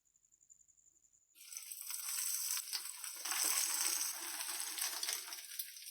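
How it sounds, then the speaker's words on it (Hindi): Egg and potato kebabs (aloo tikki) fry in oil with a loud, steady crackling sizzle that starts abruptly after a second of near silence and continues close up, with no talk. "इसी तरह ये हम सारे फ्राई कर लेंगे।"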